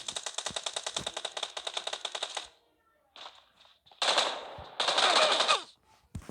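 Automatic gunfire from PUBG Mobile: a fast, rattling burst of shots, then a pause, then two more dense bursts.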